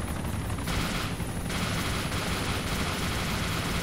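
Rapid machine-gun bursts from a gunner's weapon in a video game, dense continuous fire over a loud steady engine drone like an aircraft, with no talking.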